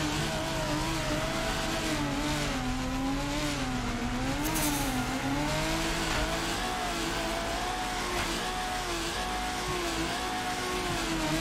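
Car engine in the Torque Drift video game, revving hard and steadily while drifting through a course section, pitch wavering up and down with gear changes, loud and unbroken.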